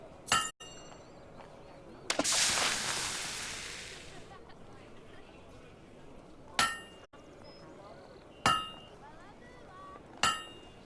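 Hammer forging metal at a blacksmith in Fable II: sharp metallic clinks ring out at intervals, with a loud hiss of quenching or bellows early on.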